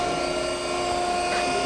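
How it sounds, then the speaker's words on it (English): The spindle of an Okamoto ACC-1224DX high-precision 12 by 24 inch surface grinder runs without cutting. A steady, even machine whine and hum holds at constant loudness with no voices. "It's on right now. The grinding spindle is running."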